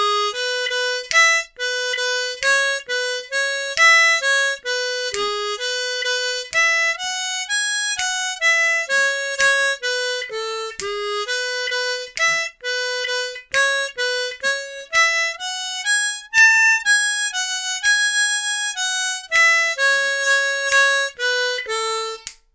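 Part A of the Irish jig Connaughtman's Rambles played on an A harmonica, a lively stream of clear reedy notes in bouncing jig rhythm, solo and close.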